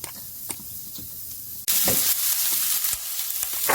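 A whole onion sautéing in about two tablespoons of olive oil in a pan makes a steady close sizzle that suddenly grows much louder and brighter partway through, then keeps hissing evenly with no talking.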